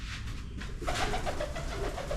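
Pigeons coo continuously at close range, the soft throaty calls layered over a steady background hum with no talking.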